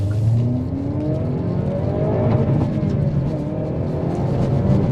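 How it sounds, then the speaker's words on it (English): A 2025 Hyundai i30N revs up with a loud engine note that climbs in pitch, heard from inside the moving car over road and tyre rumble. "It does like to rev, doesn't it, Stu?"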